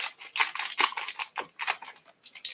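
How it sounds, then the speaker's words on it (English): Scissors make repeated quick snipping cuts, crisp and close, in an irregular rhythm of about a dozen snips with brief pauses; no speech. "I'm just going to use my scissors again because this is not what I want to have here."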